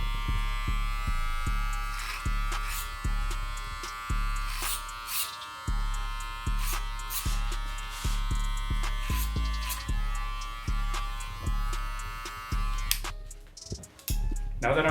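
Electric hair clippers cut hair clipper-over-comb during a burst fade at a barbershop, a close, steady buzzing hum broken into short repeated strokes as the blade passes through the hair.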